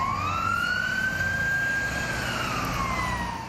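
An ambulance siren wails loudly at a crash scene where a 16-ton truck rammed parked cars, its tone rising and falling steadily over a constant background roar.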